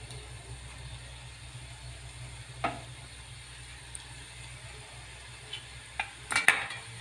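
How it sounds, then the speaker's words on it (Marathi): Cashew-shaped shankarpali dropped into moderately hot oil in a kadhai: a faint, steady sizzle with a few light clinks of a utensil against the pan near the end. "मी इथे तेल गरम करून घेतलेलं आहे फक्त अगदी कडक केलेले नाही आता याच्यामध्ये सोडून देते"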